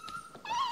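Five-week-old Airedale Terrier puppy giving a short, high whimpering whine that rises into a wavering, drawn-out cry, close and fairly loud, with no talking.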